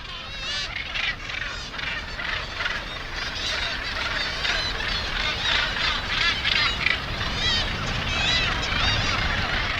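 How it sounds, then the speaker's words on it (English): A large colony of gannets calls from the sheer cliffs of Bass Rock in Scotland, a dense, continuous chorus of harsh, overlapping cries at steady volume, with a voice talking over it. "Bass Rock, the Alcatraz of Scotland, home to the planet's largest colony of gannets."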